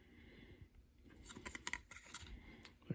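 Scissors cut close up and quietly through material for custom backup lights on a 1960-66 Chevy C10, a run of crisp snipping strokes and faint scratches with no talk.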